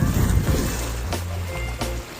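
Strong wind buffets the microphone at a windy shoreline while waves surge and wash in, a low engine rumble from a nearby boat running underneath, loud and close throughout.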